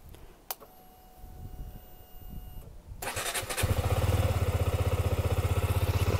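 A 2018 KTM 125 Duke 125cc motorcycle engine cranks and catches, then settles into a loud, steady, rhythmic idle after a few seconds of quiet background.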